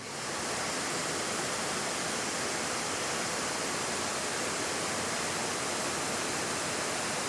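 An AR630 pressure washer sprays through a 4.0 nozzle in a loud, steady, unbroken hiss that starts abruptly and holds for several seconds.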